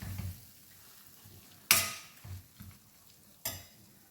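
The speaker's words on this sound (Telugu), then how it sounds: "ఒక 2 నిమిషాలు తాలింపులో ఈ మసాలా అంతా వేగనిద్దాం" Masala frying in hot tempering oil for capsicum masala gravy, a soft sizzle broken by two sharp loud scraping stirs of a spoon against the pan and lighter clinks between.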